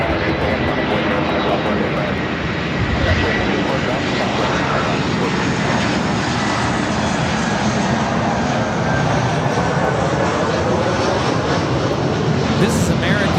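A jet airliner takes off from runway 24 left at Los Angeles airport, its engine roar dense and steady at close range, with a voice talking over it and faint radio chatter.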